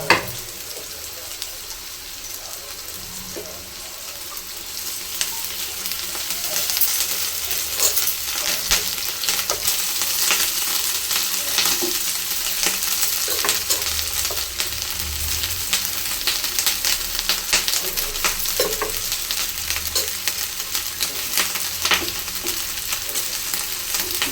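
Rice for chitranna sizzles steadily in a hot frying pan while a spoon stirs and scrapes it in irregular clicks, close and continuous throughout.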